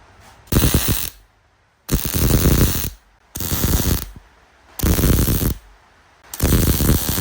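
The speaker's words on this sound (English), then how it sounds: "let's get welding" Welding rust repair on the A pillar of a Ford XA Coupe: five loud, crackling bursts of arc welding, each roughly a second long, separated by short quiet gaps.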